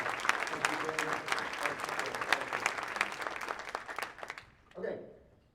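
Audience applause at a dinner lecture event, a dense spread of claps lasting several seconds and then fading to near quiet before a brief swell of murmur at the end.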